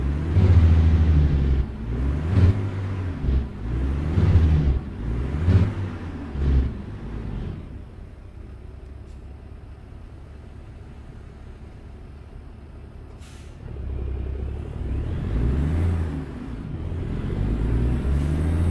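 Truck engine in American Truck Simulator, a Freightliner FLD hauling in Louisiana, revs and shifts up through the low gears: rising and falling engine pulls in quick succession, then a quieter steady drone that swells again, with no talk.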